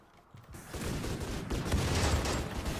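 Mechanoid gunfire in the Rimworld video game, a dense rattling fusillade of overlapping shots with booms, rising from quiet to a sustained loud barrage after half a second, no voices.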